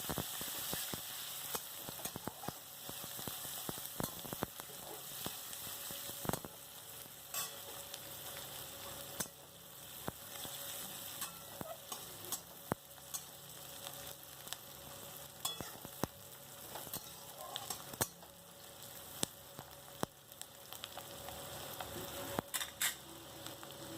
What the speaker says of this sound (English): You can see that our onion is frying